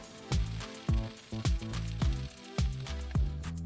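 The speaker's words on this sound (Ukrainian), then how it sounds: "лємо соняшникову олію, викладаємо курячі гомілки та смажимо до золотистості" Floured chicken drumsticks seasoned with smoked paprika frying in sunflower oil in a deep pan, a close steady sizzle broken by repeated sharp spitting pops and splashes.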